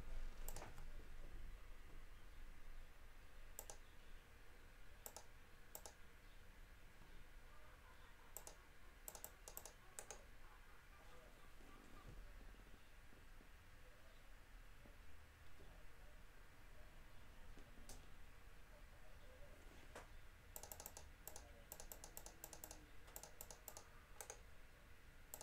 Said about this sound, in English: I'm typing the property number in